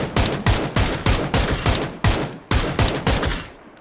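Rapid gunfire rings out in PUBG, around ten sharp shots in a steady, evenly spaced burst, loud and close with no talk over it.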